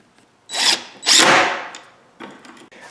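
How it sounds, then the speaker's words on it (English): An 18-volt cordless drill drives lag bolts while attaching wheels to a small dolly, two short close whirring bursts, the second longer and straining, followed by a faint third spin. "I'm using this 18 volt because my AC drill is too powerful."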